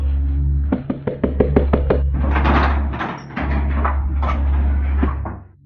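A quick run of sharp knocks on a wooden door, then heavier irregular banging and rattling over a steady low hum.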